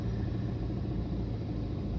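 Low, steady rumble inside a car crawling through a traffic jam, a muffled engine-and-road drone that holds constant with no talking.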